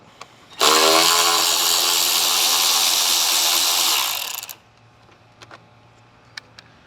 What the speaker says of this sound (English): The next step is going to be removing the screw that holds down the coolant reservoir